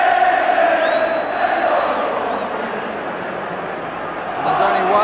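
Football crowd at a Liverpool v Everton match in 1987 chanting for Peter Beardsley, a loud, sustained mass of voices with a rise in volume near the end.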